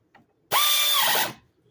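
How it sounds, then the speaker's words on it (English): Pneumatic impact tool used while replacing brake pads, one loud close burst of under a second with a whirring hammering buzz that starts abruptly and winds down. "Thank God for pneumatic tools."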